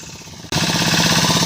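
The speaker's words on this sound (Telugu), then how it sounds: "సో బోట్ రైడింగ్ అయితే ఎక్కినాం మనం." A boat engine on a ride to an island, a loud close rhythmic chugging that kicks in abruptly and runs steadily to the end.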